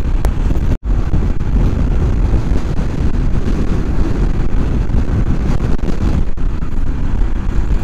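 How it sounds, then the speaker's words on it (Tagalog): Strong wind gusts roar steadily across an outdoor microphone, a dense, continuous buffeting rumble with one momentary dropout near the start and no talking. "Oh, palakas ang hangin, tinatangay ako."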